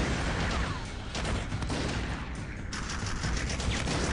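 Heavy gunfire in the video game Haze, a sustained dense barrage of automatic shots and thuds at a moderate, even level with a few louder bursts and no voices.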